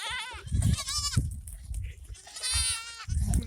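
Several goats bleat loudly and repeatedly, their wavering calls overlapping as the herd runs in a stampede on a ranch, close by with some rustling between cries.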